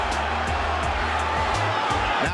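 Spectators at the Benn–McClellan boxing bout keep up a loud, sustained roar of cheering, steady and unbroken, with dull low thuds recurring underneath.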